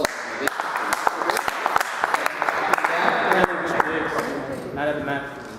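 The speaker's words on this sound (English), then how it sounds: "Should give them a round of applause." A small group at a cricket show claps in scattered, sharp individual hand claps that thicken into looser applause, with people talking over it throughout.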